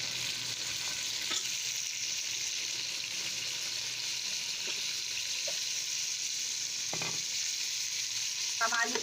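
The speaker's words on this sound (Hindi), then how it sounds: "हम आलू को थोड़ी देर भूनेंगे।" Cut potatoes frying in a pan for tahiri, a constant soft sizzle heard close and alone, with a few light scrapes of stirring toward the end.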